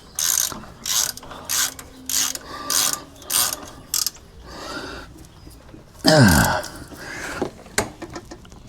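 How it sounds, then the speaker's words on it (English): A spanner tightens a bolt under a car in a series of close, rhythmic ratcheting clicks in short bursts, followed by a louder metallic scrape and a few final clicks. "I'll get a spanner onto that as well as this bottom one tight."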